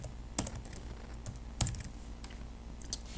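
Quiet typing on a computer keyboard, a few sparse, distinct key clicks spaced irregularly over a soft background.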